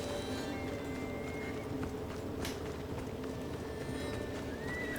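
Horse hooves gallop in Assassin's Creed Odyssey, a quick, steady drumming of hoofbeats that continues throughout, set against a constant outdoor ambience of soft background noise.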